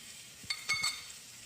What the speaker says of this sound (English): The next step is actually adding some butter.